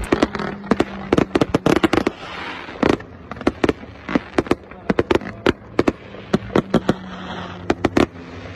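Rapid bursts of festival fireworks cracking and popping in irregular clusters, loud and sharp, with a steady low drone of stunt planes flying through them.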